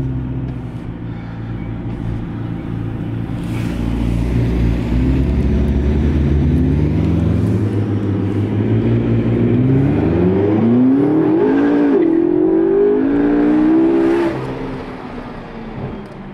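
A McLaren MP4-12C's turbocharged engine accelerates hard, a loud sustained roar climbing steadily in pitch through the revs before easing off near the end, with no talk over it.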